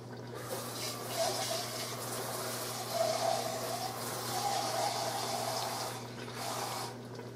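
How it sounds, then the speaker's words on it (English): Water runs and splashes from a tap into a 28-ounce tomato can, filling it halfway to rinse out tomato sauce residue, a soft continuous trickle with slight surges that stays fairly quiet. "I'm going to add a half of a 28-ounce can of water."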